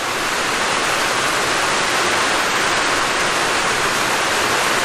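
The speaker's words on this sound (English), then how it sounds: "That's a heavy rain." Heavy rain drums on a metal roof, producing a loud, dense, unbroken hiss and roar that holds steady throughout.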